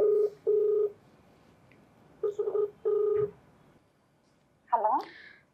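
Telephone keypad tones beep in short bursts, a pair and then a quick cluster, followed by a brief electronic chirp as the call connects. The tones are close and clear against quiet background noise.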